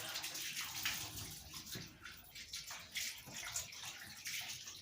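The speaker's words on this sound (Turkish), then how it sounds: "Önce bir tertemiz yıkayayım arkadaşlar sıcak suyla." Bones being washed under hot running tap water, a soft continuous splashing and gurgling stream with small uneven bursts as the bones shift, faint and close, no talking.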